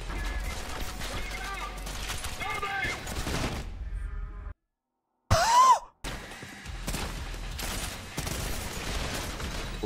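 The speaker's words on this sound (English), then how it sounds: "You guys are just shooting just for the sake of shooting." Enemy gunfire in the shooter game Trepang2, loud continuous volleys and bursts that fill most of the stretch, broken by a brief silent gap and a short sharp burst before firing resumes.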